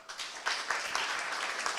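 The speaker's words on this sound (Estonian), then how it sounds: "Kalju Saar, aplaus talle." Brief applause at a college graduation ceremony as a graduate's name is called, a short burst of hall clapping from the audience, moderately loud and even.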